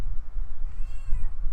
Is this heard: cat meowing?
yes